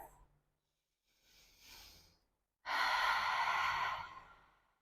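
A faint inhale followed after a pause by a long, breathy exhale during a yoga flow, close and airy, fading out over a couple of seconds.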